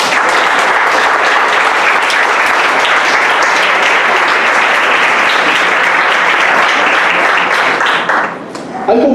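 Loud, sustained applause from a church congregation fills the room, a dense wash of many hands clapping steadily before thinning briefly near the end.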